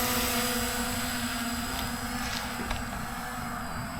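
Faint, steady high-pitched whine from a Ruko F11 Pro 2 camera drone flying outdoors on a cold day, humming evenly throughout with no talk.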